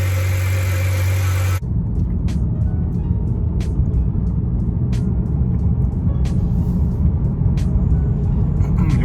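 A BMW E90 driven on a test run after a radiator replacement, steady engine rumble with road and cabin noise throughout, following a brief different hum at the start.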